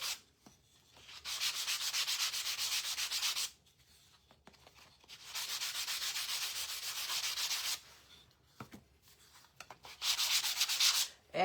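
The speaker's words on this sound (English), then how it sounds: "I am gonna lightly sand this." Light hand sanding of a wooden Halloween wall hanger using 120-grit paper, three sustained bursts of steady, close scratchy rubbing with short quiet pauses in between, no talking.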